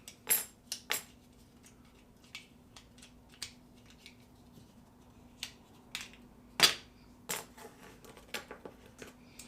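A Milwaukee Fastback V2 utility knife is handled and opened, producing sharp, scattered metallic clicks and snaps close by, with one louder snap partway through, amid quiet pauses and no speech.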